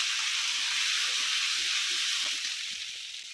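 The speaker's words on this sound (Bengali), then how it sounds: "আদা বাটা দিয়ে দিচ্ছি, না হলে আদাটা ছিটকিয়ে যাবে" Ginger paste with turmeric fries in hot oil in a pan while vegetable khichdi is being cooked, giving a loud, steady, close sizzling hiss that softens a little toward the end.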